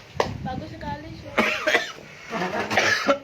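A person coughs a few times in short bursts, close and fairly loud, with a voice and other chatter mixed around the coughs.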